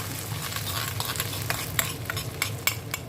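Mint stirred in a hot pan of oil for yogurt soup, a steady sizzle with brisk spoon strokes and light clinks against the pan, close and alone.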